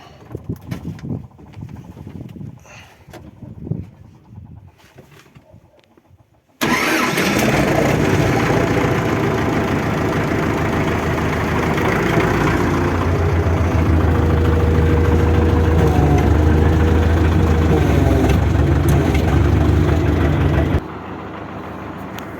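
A tractor engine cranks and catches, then settles into a loud, steady idle that runs for about fourteen seconds before dropping to a lower level; quieter handling noises come before the start.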